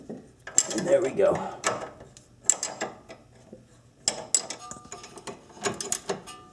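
Ratcheting wrench clicking on a sway bar link of an Acura during a suspension repair, with several short bursts of quick metallic clicks and clanks, close and moderately loud, separated by brief pauses.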